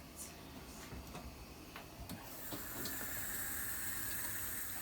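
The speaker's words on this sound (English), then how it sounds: "I'll wash my hands." A kitchen tap runs for handwashing, starting as faint splashing and scattered drips, then swelling after a couple of seconds into a steady, fuller rush of water.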